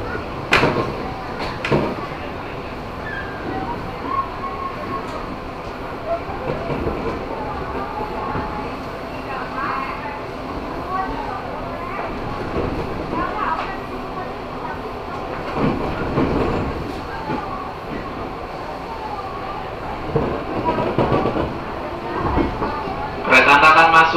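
An electric KRL Commuter Line train pulls into Bogor station with a steady rumble and rattling wheel clatter, a bright squeal near the end, and a station announcement voice heard over the noise.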